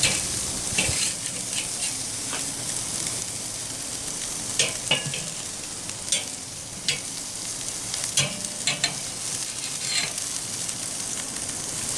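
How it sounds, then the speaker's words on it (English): Stuffed pastrami Reuben burgers sizzling on a hot cooking surface just after being flipped, a steady close crackle with scattered pops and occasional utensil clinks, no voices. "We're going to flip these over."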